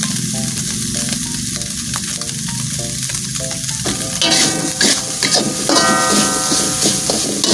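Garlic-and-spice seasoning with pepper and salt for homemade Mie Gacoan noodles, frying and being stirred in a hot pan, a steady close sizzle that swells louder halfway through, with scraping stir strokes and no talking.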